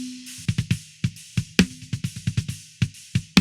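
Snare drum processed with a transient shaper in a mix, with the bass drum boosted, a fast pattern of sharp punchy hits and low thumps, close and alone.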